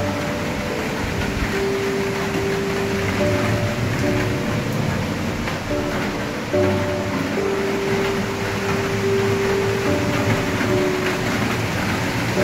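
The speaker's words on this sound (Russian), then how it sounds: "такая туча повисла, и дождик пошел." Summer rain from a heavy cloud falls in a steady, dense wash of noise, with a low mechanical hum running steadily underneath. No one speaks.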